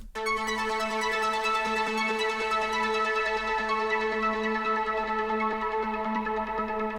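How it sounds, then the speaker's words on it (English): A bright synth arpeggio from the Polymer synth in Bitwig ripples steadily through repeating notes, sustained and even in loudness for several seconds, with no voices. "And then we got this ARP."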